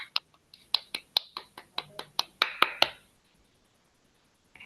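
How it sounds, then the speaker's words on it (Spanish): A small meeting group claps for a speaker, about a dozen sharp, separate claps in a quick uneven run lasting three seconds, then near silence and one last faint clap. "Desde ya un gran aplauso para Leandro."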